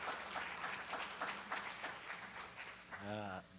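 A church congregation applauds in a warm room, a sustained patter of hands clapping that continues throughout, with a voice rising over it near the end.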